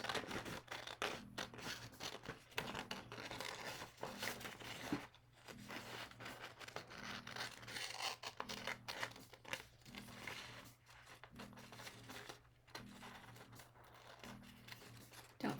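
Scissors snipping through paper to cut out wolf ears for a craft, a steady run of crisp, close cuts with soft paper crinkling between strokes.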